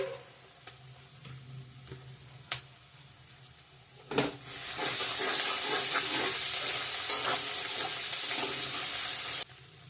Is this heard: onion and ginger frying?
yes